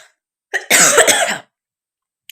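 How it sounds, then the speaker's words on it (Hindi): A short cough followed by a louder, harsher burst of coughing, close and alone, then silence. "खांसी आ रही है"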